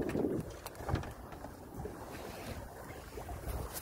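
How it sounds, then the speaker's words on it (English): Wind gusts and rumbles over a small sailboat on open water, with low buffeting at the microphone and a steady wash of water, no talk. "Let me check the wind."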